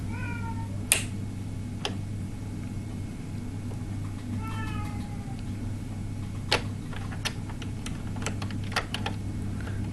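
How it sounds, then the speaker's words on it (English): A male house cat meows twice, close and clear, with a long gap between calls, over a steady low hum and scattered sharp clicks, all in a quiet room where yarn is being knitted. "My cat is not so happy with me."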